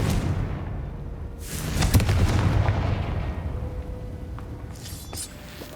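Confringo fire spell explosions in the video game Hogwarts Legacy: a loud burst of booming blasts near the two-second mark, with crackling fire and rumble trailing off into quieter game ambience and a brief sparkle toward the end.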